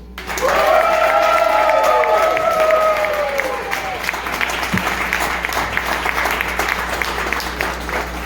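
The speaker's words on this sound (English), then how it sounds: "make some noise, show your appreciation for Miss Jill Jordan." A comedy club crowd bursts into sustained applause with cheers and whoops rising over the clapping, continuing steadily throughout.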